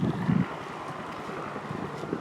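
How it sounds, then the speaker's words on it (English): A gust of wind blowing near a wildfire outdoors, a steady broad rush of air buffeting the microphone, with a stronger low thump at the start and no talking. "Oh, just a gust of wind just came through."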